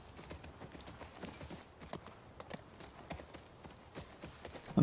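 An agitated horse's hooves clop in The Last of Us Part II, a quick, steady run of close, even hoofbeats over a quiet background.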